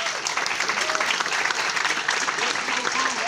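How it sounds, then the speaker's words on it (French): A church congregation gathered for a New Year meal claps in dense, continuous applause throughout. "Est-ce qu'on peut les applaudir?"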